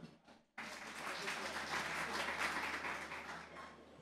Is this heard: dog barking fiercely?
no